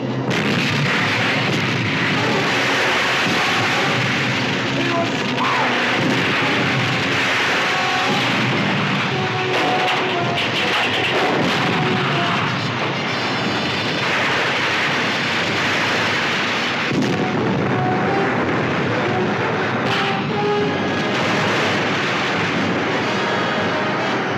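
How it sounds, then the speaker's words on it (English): Warship turret guns firing in the 1961 monster film Gorgo, a dense continuous barrage of loud booming blasts and rumbling explosions layered with film score and effects throughout. "Fire number 1 turret."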